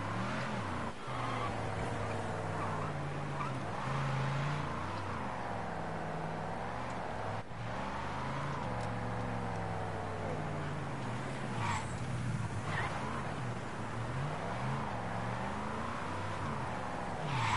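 Car engine driving in the video game Mafia 3, a steady droning motor with rising and falling revs throughout, heard under continuous talk and game music.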